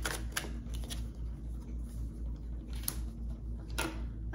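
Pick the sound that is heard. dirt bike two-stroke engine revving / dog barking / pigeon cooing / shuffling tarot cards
shuffling tarot cards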